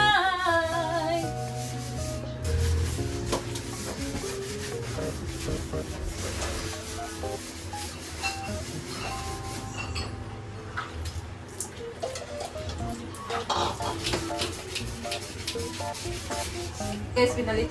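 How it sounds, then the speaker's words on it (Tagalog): Sponge scrubbing a toilet in a farm restroom, steady close rubbing strokes continuing throughout with a rough, raspy texture and faint background sounds, no speech over it. "pinalitan ko yung brush nitong sponge para matanggal talaga yung dumikit na dumi"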